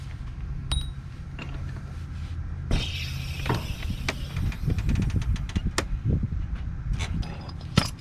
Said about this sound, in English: Now we're going to slowly let this jack down.